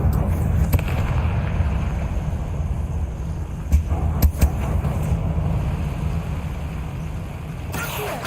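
A Confringo blasting spell bursts in Hogwarts Legacy, a few sharp explosive cracks over a low rumbling game ambience, with a voice heard around them.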